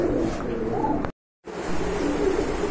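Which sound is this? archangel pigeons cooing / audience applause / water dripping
archangel pigeons cooing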